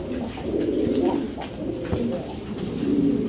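A pair of almond-coloured Jacobin pigeons coos near the listener, the soft rolling calls repeating continuously and overlapping one another.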